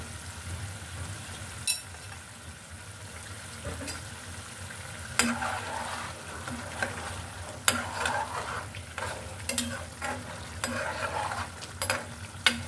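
Eggs stir-fried with spices for Bengali dim bhuna sizzle steadily in a pan, with a spatula scraping and stirring in repeated strokes and occasional sharp clinks, moderately close with no talking.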